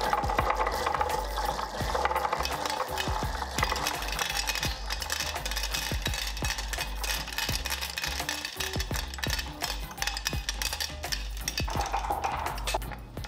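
Three-quarter-inch marbles rattle continuously through a marble machine lift, a steady clattering of hard balls knocking and rolling against each other and the mechanism under a constant low mechanical hum.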